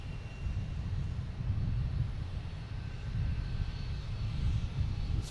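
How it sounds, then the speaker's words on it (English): Delta Boeing 757 airliner arriving at Boston Logan, a steady low engine roar that swells and eases under gusty wind, moderately distant and without talk. "We get Delta 757 coming in from Detroit."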